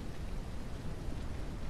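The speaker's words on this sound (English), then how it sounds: "Out of the rain, out of the storm." Steady rain and storm ambience in a survival video game, a dense, even hiss of falling rain with a low rumble underneath, constant and moderately quiet with no voices.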